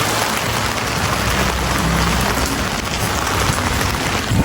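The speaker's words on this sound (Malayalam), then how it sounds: "ഇന്ന് നല്ല മഴയാണ്" Heavy rain pouring down outdoors on a day out in Germany, a dense, loud, continuous hiss of drops hitting surfaces, steady throughout with no voices.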